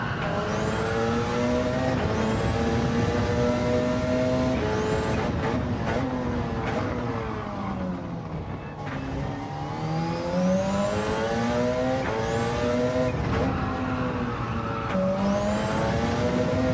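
A racing car in Gran Turismo 7 at Yas Marina, engine revving steadily with rising and falling gear-change sweeps, tyres squealing through corners, loud and continuous, with no talking.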